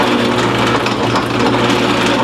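A drill press runs with a Drillnado dust collection attachment, giving a loud, steady broadband whir and hum with no pauses, close and alone.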